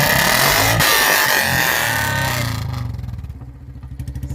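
A Royal Enfield Bullet motorcycle exhaust roars loudly amid broadband noise, then settles into a close, rhythmic thumping idle.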